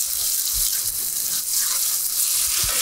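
Onions fry hard across the base of a pan for a salmon piperade, giving a loud, steady, close sizzle that runs unbroken with no talking.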